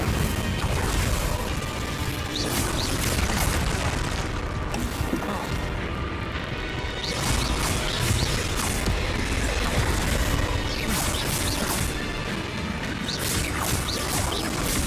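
Constant, loud spell-combat effects in Hogwarts Legacy, with blasts, crashes and magical whooshes from Confringo, Incendio and Glacius casts layered densely throughout, leaving barely a pause.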